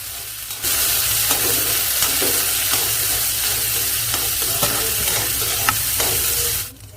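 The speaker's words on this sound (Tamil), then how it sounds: "பெருஞ்சீரகம் பொரிய ஆரம்பித்தோன்னே வெட்டி வச்ச வெங்காயம், கருவேப்பிலை, வெள்ளைப்பூடு எல்லாத்தையும் சேர்த்து நல்லா வதக்கிக்குங்க" Chopped onion, curry leaves and garlic sautéing in hot oil with mustard and fennel seeds, a loud continuous sizzle with occasional stirring scrapes and pops, steady throughout and cutting off near the end.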